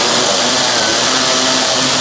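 Steady, loud mechanical whir of a power tool removing the 10mm bolts holding the door glass and regulator on a 2002-2006 Honda CR-V front door, running continuously without pause.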